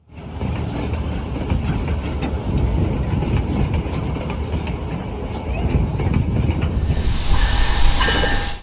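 A train on Hawaii's last in-service railroad rolls past close by, a steady loud rumble with hiss and rail clatter running throughout, with a sharper metallic squeal toward the end.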